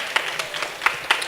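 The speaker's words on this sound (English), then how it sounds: "clap, clap" Scattered audience clapping at a Double Dutch arts event in New York City, a few sharp individual claps standing out over a soft, thin background of light applause.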